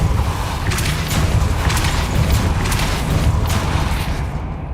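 A Depulso spell cast in the Hogwarts Legacy video game, heard as a dense whooshing blast with rumbling booms and repeated sharp bursts, loud and continuous throughout.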